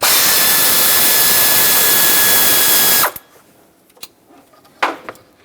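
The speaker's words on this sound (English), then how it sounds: "Use an 8mm socket, break loose the bolts that hold the intake and the fuel rail together." A power tool with an 8mm socket loosens the intake and fuel rail bolts on a 2008-2010 Ford F250 Super Duty 5.4L V8, a loud, close, steady whir lasting about three seconds, then stopping, followed by faint clicks and clatter.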